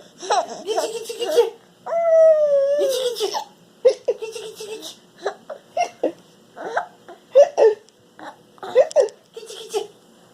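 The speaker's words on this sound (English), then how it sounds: "You got the hiccups and Daddy's tickling you?" A baby hiccups repeatedly while being tickled, the short jerky hiccups mixed with giggles and squeals, close and fairly loud.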